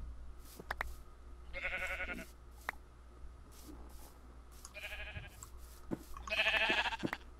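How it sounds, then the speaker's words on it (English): Sheep in the Minecraft video game bleat in several short, nasal calls spaced a few seconds apart, fairly close and clear over a low background rumble. "I'll get some these sheep and we will make a bed real quick."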